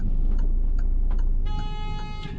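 A car horn honks in Paris traffic, a sustained bright toot over a loud, steady rumble of nearby engines and road noise, sounding up close for about a second.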